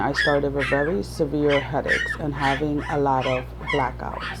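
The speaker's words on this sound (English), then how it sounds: "those are the puppies barking in the background" Puppies barking and yipping in the background of a room, faint short yaps scattered beneath someone speaking steadily in the foreground.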